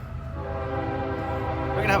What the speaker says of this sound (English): We're gonna have a train coming by.